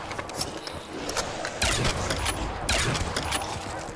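Rapid gunfire from a weapon in a Call of Duty custom zombies map, two loud dense bursts of quick shots under a steady layer of game noise, no voices.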